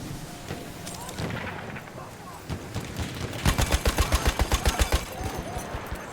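A support weapon fires in Battlefield 1: a few scattered shots amid battle noise, then a rapid burst of about a dozen loud, evenly spaced rounds that fades into a short tail.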